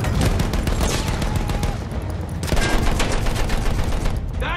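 Machine gun fire in the World War I shooter Battlefield 1, sustained loud automatic bursts with dense overlapping shots filling the scene from start to finish, no voices over it.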